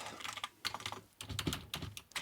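Rapid clicky typing on an Amiga keyboard fitted with new black A1200.net keycaps, a quick irregular run of close keystrokes with no voices.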